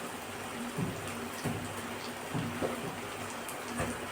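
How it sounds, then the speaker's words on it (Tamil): Water is poured into a cooking pot of chicken curry (kolambu): a soft, steady trickling and splashing at low level, with faint clinks against the pot and no talk. "இப்போ தண்ணி ஊற்றி கொஞ்சம் அப்படியே வேக வைக்க வேண்டியது."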